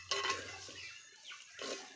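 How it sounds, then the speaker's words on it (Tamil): Mashed raw plantain is stirred in a pan over heat for puttu, giving soft scraping and clinking strokes of a utensil against the pan, in short bursts with pauses, close and moderately quiet. "சுருள சுருள கிண்டியாச்சு."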